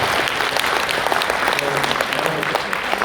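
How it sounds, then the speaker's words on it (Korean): Sustained, dense applause fills a hall from a Korean PEN association's general assembly, welcoming back its recovered chairman; a steady roar of many clapping hands with no speech over it. "큰 박수 한번 더"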